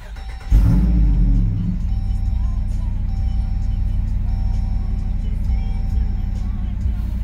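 A Jeep Wrangler 392 starts up from inside the cabin, a loud cranking burst that settles into a deep, steady rumbling idle, heard close and alone.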